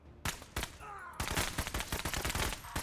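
Rapid bursts of gunfire from the video game MENACE, a few sharp shots opening before a dense, loud stretch of continuous fire that runs to the end.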